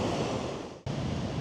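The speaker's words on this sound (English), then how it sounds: "the waves are just crashing in on this beach" Ocean waves crashing onto a beach at Land's End in Cornwall, a loud broadband roar that briefly drops away and then surges back in abruptly, with no voices.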